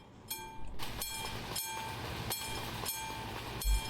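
A train rolls past a level crossing in the Euro Truck Simulator game, its wheels beating out a steady, regular clatter every fraction of a second over a continuous rumble, heard close and alone.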